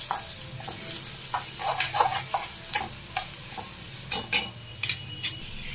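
Onion and bay leaf frying in oil for dal fry while a spoon stirs them, with a low steady sizzle broken by sharp metallic clinks and scrapes against the pan, close and clear, with no talking.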